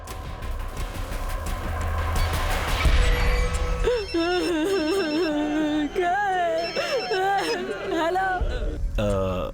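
A mobile phone ringtone plays as a melodic, repeating electronic tune beginning partway through, loud and close, over background babble and movie sound effects in a dubbed action film scene.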